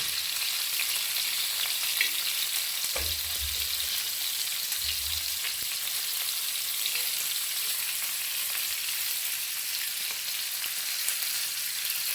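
Homemade village crab pieces frying on a flat tawa in a Konkani-style preparation, giving a steady, even sizzle throughout with a couple of brief low thumps partway, no voices.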